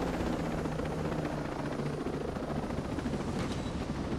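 A helicopter in Ghost Recon Breakpoint drones steadily and loudly on its rotor and engine throughout, a continuous close whir with no talk over it.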